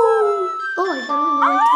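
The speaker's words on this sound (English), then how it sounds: "Why do you keep on howling? Because it's a fun game of howling." Wolf howls from the WildCraft video game, drawn-out tonal wails that rise and fall in several overlapping, loud, close calls.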